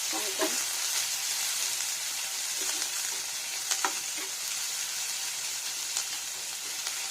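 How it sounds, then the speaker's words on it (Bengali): Chopped garlic and green chilies frying in a pan, a steady close hiss of sizzling oil with occasional stirring clicks and scrapes throughout, no voices. "এটা একটু রসুন কুচানো আর এটা একটু কাঁচা লঙ্কা এগুলো একটু ফ্রাই করবো"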